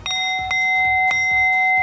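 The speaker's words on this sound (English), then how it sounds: "This is a Tibetan singing bowl" A Tibetan singing bowl rings out after being struck like a bell, its clear sustained tones humming steadily, with faint tapping underneath.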